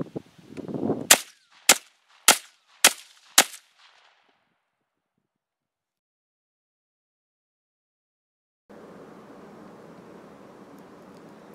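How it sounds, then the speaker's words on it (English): Five sharp gunshots from a modified SKS rifle fitted with an ATI stock and forend grip, fired in an evenly spaced rapid series outdoors, loud and close, followed by silence and then a low steady rumble of wind or background noise. "Got 5 more rounds to shoot off here."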